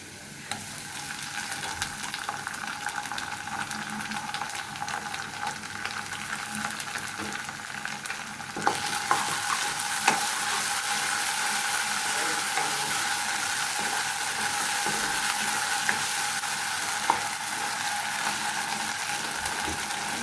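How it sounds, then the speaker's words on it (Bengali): Ginger garlic paste frying with onions in a pan, a steady close sizzle and crackle that runs throughout and grows louder about halfway, with faint stirring scrapes. "আদা রসুনটা আমার ভাজা হয়ে গেছে"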